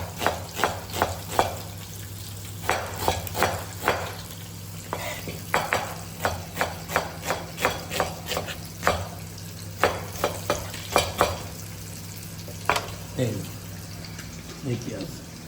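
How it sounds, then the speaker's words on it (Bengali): Sliced onion frying in a pan for a rupchanda (pomfret) fish do-piaza, with a soft sizzle broken by repeated sharp scraping clicks of a spatula stirring at an uneven rhythm, close up, over a low steady hum. "এখানে দো পেঁয়াজের জন্য এই পেঁয়াজ দেবো"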